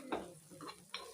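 Beaten egg poured into a hot pan with ginger-garlic paste for egg curry, three short sizzling bursts as it is stirred and spread, close and moderately loud, no voices.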